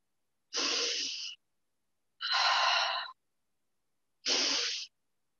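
Three deep clearing breaths close out a yoga practice, each a long airy exhale of about a second, spaced evenly with quiet pauses between them, close and distinct.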